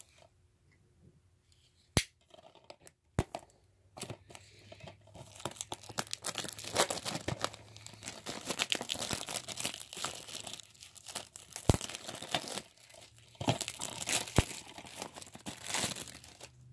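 Packaging is torn and crumpled off a Criterion Collection disc, with sharp snaps and ripping followed by long stretches of crinkling plastic close by, alone without voices.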